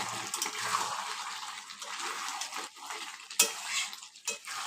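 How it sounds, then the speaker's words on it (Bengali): A spoon stirs chicken curry in a pot over a high gas flame, making wet scraping and sloshing close up, with occasional sharp metallic clinks against the pot. "15 মিনিট পরে গ্যাসের ফ্লেমটা হাই করে দিয়ে একবার এইভাবে নাড়িয়ে নিতে হবে।"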